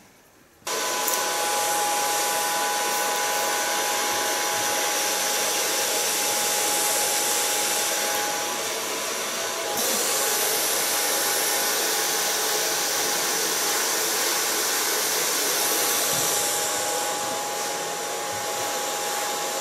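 A hair dryer blows steadily on freshly bleached hair, running loud and continuous for nearly the whole stretch. It starts abruptly and dips briefly about midway. No one speaks.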